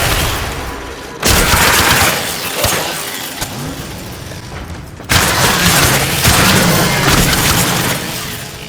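Ripkas weapons in a video game strike with loud, harsh crashing bursts. Two big impacts hit a few seconds apart, each trailing dense, grinding noise.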